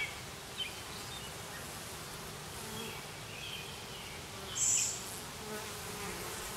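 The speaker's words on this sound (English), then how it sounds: "There are just tons of bees." Masses of honeybees buzz steadily around foundationless hive frames, a soft continuous drone with occasional louder passes close by.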